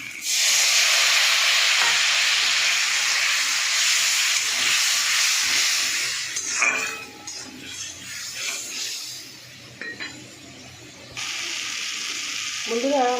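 Water poured onto a cooked spice paste in a hot pan for a fish curry sets off a loud, close, roaring steam hiss. The hiss dies down after about six seconds, gives way to quieter bubbling and stirring, then surges again near the end.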